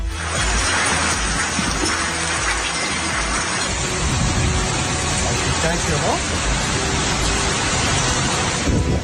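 Heavy unseasonal rain and hail pound down in Gujarat in a dense, roaring wash driven by strong wind, unbroken throughout, with a brief spoken voice.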